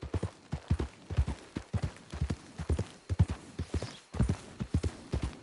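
Horse hooves clip-clop in the video game Red Dead Redemption 2, a steady rhythmic clatter of hoofbeats at a walking pace, close and clear, with a brief pause midway.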